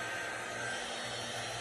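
A hair dryer blows with a steady, loud, continuous whir throughout, without any voices.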